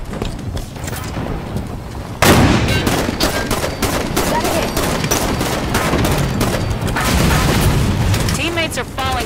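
Weapon fire in the Halo 5 Warzone Firefight mode, including a rocket launcher: a sudden loud blast followed by dense, rapid bursts of gunfire and booms, with a voice talking over the battle.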